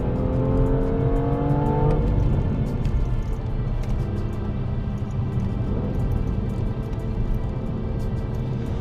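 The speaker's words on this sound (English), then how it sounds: "But this is still an inline 6-cylinder that loves to be revved out." BMW M2 turbocharged inline six-cylinder engine revving hard and loud and close by, rising pitch sweeps early, then a steady roar of the car under way with no talk.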